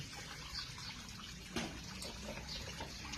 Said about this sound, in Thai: เดี๋ยวมาแช่น้ำก่อนนะคะ เก็บมาแช่น้ำรสชาติจะออก